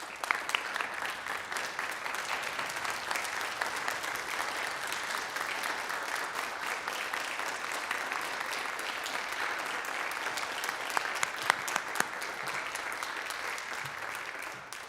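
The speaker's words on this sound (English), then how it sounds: "Let's give them the round of applause that they deserve." Sustained applause from an audience at a high school graduation ceremony for interns, dense and steady for about fifteen seconds at moderate distance, with no talking over it.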